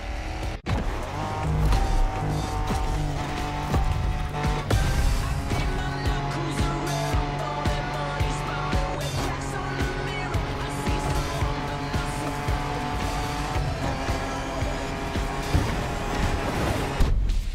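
Off-road car racing in The Crew Motorfest video game, a loud continuous engine roar with gear changes and tire skids, dense and steady throughout, with a faint voice at times.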